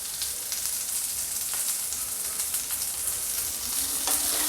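Soybean manchurian mixture seasoned with black pepper and salt is stirred in a hot pan, producing a loud steady sizzle with brief scraping strokes, no one speaking.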